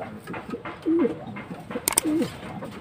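Racing pigeons, including a red bar, coo nearby in soft, throaty, repeated calls, with a brief flutter or rustle between them.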